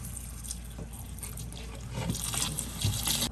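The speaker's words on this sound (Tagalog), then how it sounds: "Kani, pwede na ni siya hugasan." Tap water runs and splashes in a kitchen sink while chopped upo gourd is rinsed, a steady close trickle with small drips that grows slightly louder partway through, no talking.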